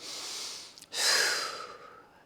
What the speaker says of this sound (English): You're using your breath, that sniff and blow,